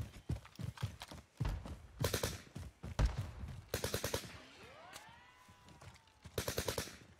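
Suppressed Bren light machine gun fire in a Call of Duty match, short rhythmic bursts of muffled thudding shots repeating in clusters, with a brief whooshing sweep in the middle.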